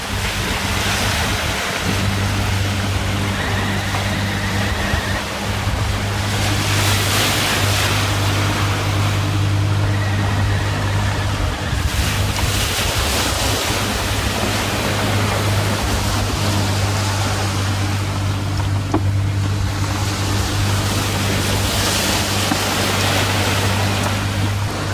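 Big ocean swells surge and crash around a boat at sea, with steady wind buffeting the microphone and a low engine drone running throughout; the wash is loud and continuous, swelling in waves.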